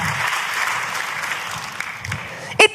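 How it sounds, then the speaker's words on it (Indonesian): A church congregation claps loudly in praise during a worship service, producing a broad, sustained wash of applause that runs nearly to the end before a couple of sharp, loud bursts cut in. "tepuk tangannya yang paling meriah buat Yesus Tuhan kita"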